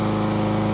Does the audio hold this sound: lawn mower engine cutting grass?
yes